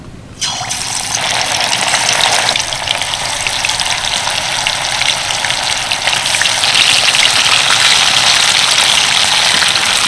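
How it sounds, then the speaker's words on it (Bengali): Steady, loud sizzling and crackling of fish frying in hot oil, starting abruptly and continuing with no talk. "এই গরম তেলের মধ্যে এক এক করে মাছ ছেড়ে দেব"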